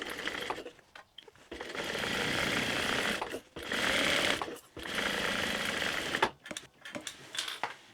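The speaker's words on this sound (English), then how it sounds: "And sew down there at the amount specified in the pattern." A sewing machine stitches a tote bag seam in several sustained bursts, each a steady dense whir running for a second or two, broken by brief pauses, close and fairly loud.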